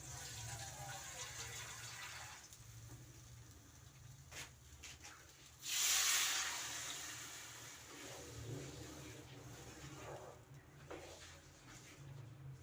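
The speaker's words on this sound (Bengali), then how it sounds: "আর তার মধ্যে দেব পরিমাণ মতো জল" Water is poured into a pot (kadai) for vegetable mixed dal, a brief gushing splash rising and fading within a low, quiet kitchen background.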